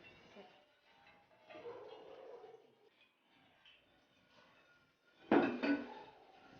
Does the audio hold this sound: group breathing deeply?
no